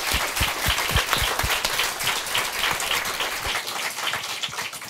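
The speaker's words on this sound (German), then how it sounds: "Nochmal einen Applaus für die Gruppe erstmal" Applause from an audience for a group of young participants at a Jugend hackt Frankfurt am Main 2024 final presentation, a dense, steady clapping that fills the room for several seconds with no talking over it.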